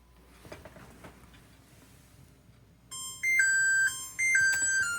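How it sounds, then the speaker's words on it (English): A kitchen timer for a baking pie shell chimes in a bright electronic melody of repeated high tones, starting abruptly after quiet background and sounding close and clear. "Okay, there's our timer"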